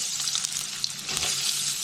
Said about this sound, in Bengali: আলুটা ভাজো এবার।